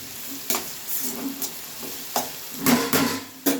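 Fried rice with soya chunks and egg being stirred after salt is added in a hot pan, with scraping spatula strokes coming in irregular bursts over a soft, steady sizzle, close and moderately loud.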